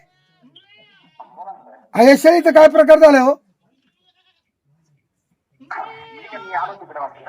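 A goat gives one loud, wavering bleat lasting just over a second, set between brief stretches of people talking nearby.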